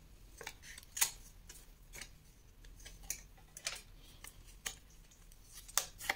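Scissors snipping the corners of decorative paper for a scrapbook album, a series of sharp short cuts at irregular intervals, close and clear over quiet room tone.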